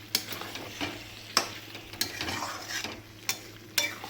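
Chicken curry with yogurt being stir-fried in a pan, a low continuous sizzle punctuated by sharp utensil clinks and scrapes at irregular intervals, close and moderately quiet, no talking.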